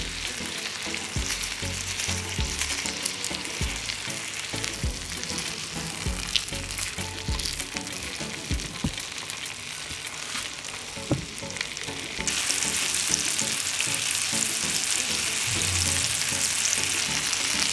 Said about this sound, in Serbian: I beli luk okrećem ovako na ove isečene polovine i ostavljam da se prži zajedno sa mesom.